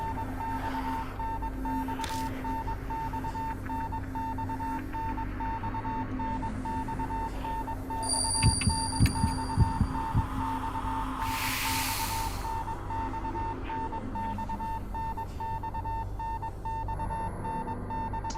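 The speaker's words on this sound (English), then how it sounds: "I want to get through this so I don't have to hear that stupid Morse code again" Repeating electronic beep tones in the horror game Spirit Hunter: Death Mark, a steady Morse-code-like pulse running continuously at moderate level, with brief higher chirps and a short hiss burst partway through.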